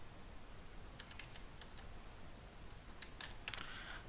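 A command being typed on a computer keyboard, a few quick soft key clicks in short bursts against a faint steady room hiss, quiet and close.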